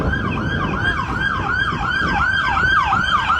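A wailing siren sweeps up and down repeatedly in a steady rhythm, loud and continuous over low traffic rumble.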